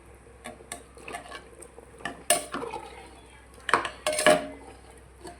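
Beef curry being stirred in a pressure cooker with a metal spoon: close, irregular scrapes and clanks against the pot, with a few louder knocks near the middle and end.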